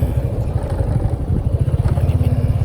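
A motorcycle ridden along a main highway, its engine droning close and loud with a steady pulsing throb and road rumble, no talk over it.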